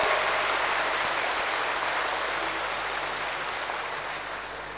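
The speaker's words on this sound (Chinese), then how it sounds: "我们大家一起以热烈掌声感谢梁云清先生盛情展" Audience applause in a large assembly hall at a Buddhist dharma gathering, a dense continuous wash of clapping that holds steady and slowly fades over a few seconds, with no voices.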